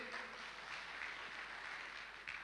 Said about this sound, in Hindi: जोड़ा तालियां हो जाए इसके लिए